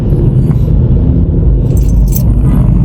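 Heavy road traffic in Manila, a steady loud rumble of engines and vehicles close by, with brief metallic jingling sounds rising over the continuous low drone.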